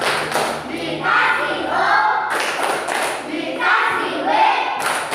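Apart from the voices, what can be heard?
classroom children clapping for a group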